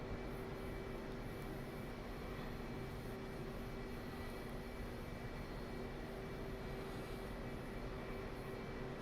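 A jet in DCS World taxis toward a distant runway, its engine a steady, even whine and rumble that holds low and constant throughout, with no voices.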